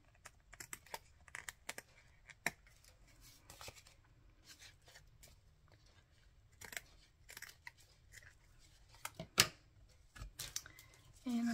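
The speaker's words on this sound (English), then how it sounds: "Going to trim it down the sides there." Scissors snip through paper for a junk journal page, producing short, irregular crisp cuts and rustles close to the microphone, with quiet pauses between bursts.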